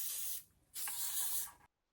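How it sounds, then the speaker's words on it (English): Two bursts of L'Oreal Infallible setting spray misted onto a face during a makeup session, each a loud, close, broad hiss lasting under a second, separated by a short gap and followed by silence. "That was the L'Oreal Inflammable setting spray"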